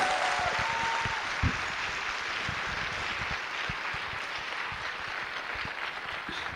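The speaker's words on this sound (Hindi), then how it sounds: "और इसके लिए ताली तो जोरदार बजा दीजिए। Give a good applause to her." An audience clapping steadily at a gathering, a continuous even patter of many hands at moderate distance that holds for several seconds without building or fading.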